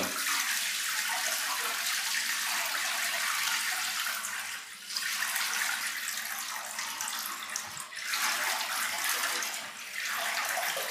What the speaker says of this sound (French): l'eau qui sort du seau, elle est assez claire